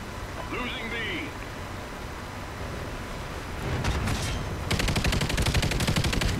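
Gunfire in Call of Duty Ghosts, bursts of rapid automatic shots coming in short volleys and then a sustained rattling stream near the end, loud over steady game background noise.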